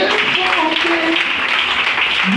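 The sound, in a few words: congregation applauding in church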